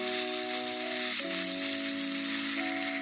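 Pasta noodles tossed in garlic butter in a pan, a steady close sizzle and hiss of frying with soft stirring underneath, continuous and even throughout, no speech.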